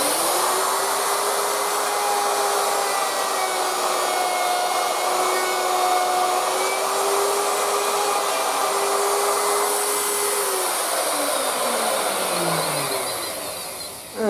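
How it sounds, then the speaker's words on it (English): Wood router cutting a bass guitar body, a loud steady high whine held for about ten seconds, then the pitch drops as the motor spins down near the end. "We're going a bit deeper now, so I'm going to alter the depth of the router."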